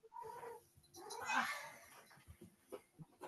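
A cat gives a drawn-out yowling meow that peaks loudly in the middle, with faint room noise and small knocks trailing after it.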